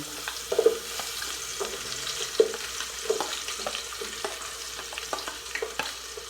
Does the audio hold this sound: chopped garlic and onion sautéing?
yes